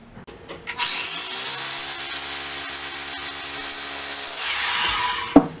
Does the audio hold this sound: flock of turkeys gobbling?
no